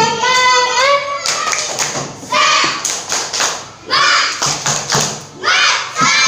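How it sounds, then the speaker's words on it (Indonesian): Children in an Indonesian classroom do a rhythmic spirit clap, bursts of sharp claps and thumps chanted in time with a teacher's voice, loud and close. "Tepuk semangat dulu dong."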